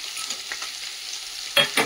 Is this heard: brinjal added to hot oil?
yes